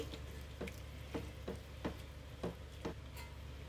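A spoon scrapes through onion curry for puri kurma in a pan, about six evenly spaced, close strokes over a quiet, steady sizzle, with no talking.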